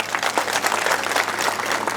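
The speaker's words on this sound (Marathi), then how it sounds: "तुमच्यासाठी एकदा टाळ्या वाजव" A crowd at a political rally in Rajur claps in sustained, dense applause, close and fairly loud, for the whole two seconds.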